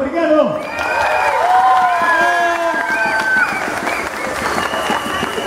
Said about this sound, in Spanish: ¡Aplauso para Ricardo!